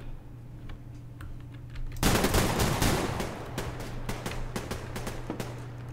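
Gunfire in the Survarium video game: faint, scattered shots at first, then a loud burst at two seconds that gives way to rapid, sustained volleys with crisp individual cracks over a steady low hum.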